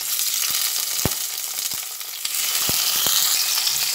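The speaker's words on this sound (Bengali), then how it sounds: "রসুন আর শুকনো লঙ্কাটা ভাজা হচ্ছে, সেই অবস্থায় টমেটোগুলো এখানে দিয়ে দিচ্ছি।" Tomatoes drop into hot oil where garlic and dried chillies are already frying for a tomato-garlic mash, producing a loud, dense, continuous hiss with a few sharp pops and clicks close by.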